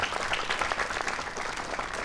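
An audience at a Marathi youth talk event applauds steadily throughout, a dense, even wash of many hands clapping with no break.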